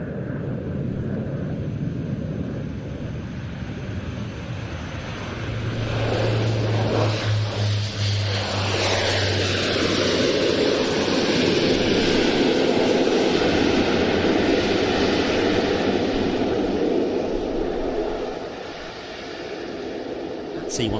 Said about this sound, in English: that's the sound of some Mirage 2000s, but they're pretty high, much higher than they might sound.